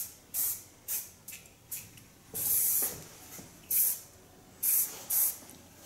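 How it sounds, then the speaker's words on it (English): Repeated short hissing bursts of an aerosol hair spray, about seven sprays of varying length with brief pauses between, close by. "Fixate it with a built-up spray."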